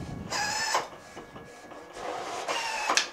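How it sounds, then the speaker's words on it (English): Primera Impressa IP60 photo printer running a print job, with close mechanical whirring and ratcheting passes that rise, pause briefly and start again, with no voices. "send page to printer, print, it will literally print this photo"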